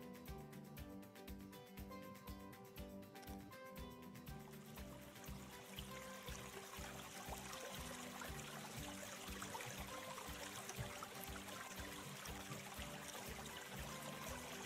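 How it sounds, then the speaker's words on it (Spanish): Flowing water for relaxation trickles and pours steadily under soft calming music, the stream growing fuller and brighter midway and continuing evenly throughout. "Qué lindo se oye el agua"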